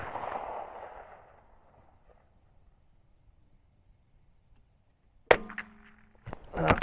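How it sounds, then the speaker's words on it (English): Gunfire at top targets on a shooting range: a sharp, loud shot rings out after a quiet stretch, followed by another loud report near the end, each with ringing decay. "Three shots on the top targets."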